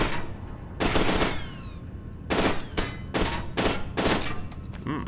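Gunfire in the shooter game F.E.A.R. 2, several loud bursts of rapid shots separated by short gaps, close and punchy with nothing else over them.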